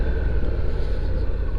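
Steady low rumble of a 700ND motorcycle engine while riding in sport mode, a continuous close drone with wind-like roar and no other sounds.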